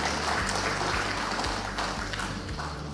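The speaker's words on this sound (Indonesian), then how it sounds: "Tepuk tangan nih buat Pak Mendagri dan jajarannya." An audience claps for the Minister of Home Affairs and his staff at a Jakarta building-permit service event, a steady wash of applause over a low hum, fairly loud and continuous.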